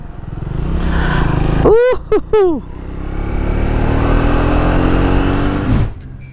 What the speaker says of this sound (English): You ride this for the thumping and for the vibrations.